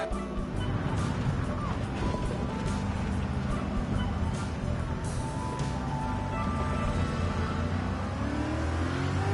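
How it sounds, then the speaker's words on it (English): A racing car in Gran Turismo 7 accelerating and downshifting, its engine note droning loud and continuous with shifting pitch while someone talks over it. "I gotta stop downshifting."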